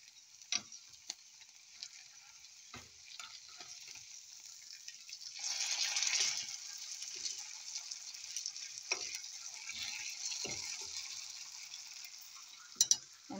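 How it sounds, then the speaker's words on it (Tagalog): Spinach and Chinese pechay leaves frying in hot oil, a quiet, continuous sizzle with scattered ticks and crackles that swells briefly around the middle as more leaves go in. "Now oil is already hot. Now we can fry now this one."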